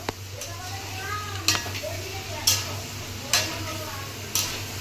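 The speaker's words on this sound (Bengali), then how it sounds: "এবার আলু সিদ্ধগুলো দিয়ে দেবো, ভালো করে মিশে নেবো" Boiled potatoes are stirred into cooked masala in a pan, with a spoon striking the pan in sharp, evenly spaced clanks about once a second over a low hum and faint sizzle.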